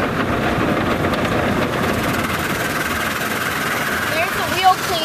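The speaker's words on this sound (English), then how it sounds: "And here comes some 50-inch pearl brushes." Steady rumble of an express car wash tunnel with 50-inch pearl brushes, continuous broadband churning and whirring under engine-like drone, a brief thump near the end, heard from inside the car with faint voices.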